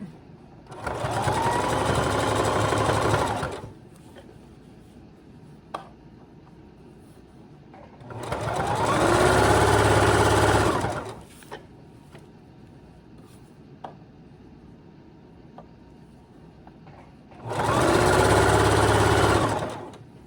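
A sewing machine runs a zigzag stitch on a shorts jumpsuit in three separate bursts of fast, close whirring, each lasting two to three seconds, with quiet pauses between them.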